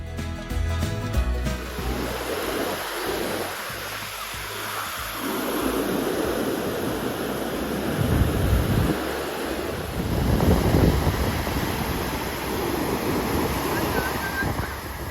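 Ocean surf rolls onto Sand Beach in Acadia, Maine, a continuous roar of breaking waves with wind buffeting the microphone and swells peaking every few seconds, no voices.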